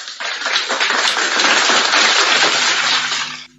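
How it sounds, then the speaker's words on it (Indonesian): Loud, dense audience applause fills the room, a crowd clapping steadily for a few seconds before tapering off at the end. "Tepuk tangan."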